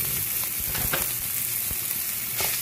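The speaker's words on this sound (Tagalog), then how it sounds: "Magpiprito na po tayo ng tokwa para sa ating lumpiang toge." Tofu frying in hot oil for bean sprout lumpia, a close, steady crackling sizzle with scattered pops and a few stirring clicks throughout.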